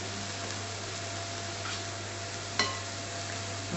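Turnip and carrots simmer in a little water in a pot for Irish-style pork chops, giving a steady close bubbling hiss with one sharp utensil clink partway through.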